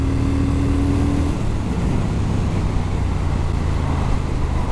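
A 2021 Triumph Speed Twin motorcycle pulls hard in a higher gear on a drying road, its engine a steady, loud drone with wind rush throughout, no talk over it.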